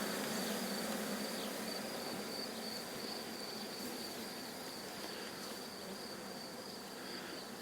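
Dense, steady buzzing of many honeybees around hives fills the air continuously, a constant hum with no voices, fairly close and even throughout, at a pine-covered apiary 1550 metres up.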